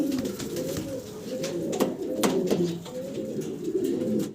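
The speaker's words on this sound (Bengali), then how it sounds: "ভিডিও স্ক্রিনে শর্ট ফেস কবুতর দেখতে পারতেছেন" Short-face fancy pigeons, including one in Andalusian colouring, coo in low, continuous rolling murmurs that overlap close by, with faint clicks and rustles in the background.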